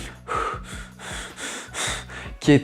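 A person imitates rapid, jerky stressed breathing, a series of sharp, close panting gasps in quick succession, ending with a brief voiced sound.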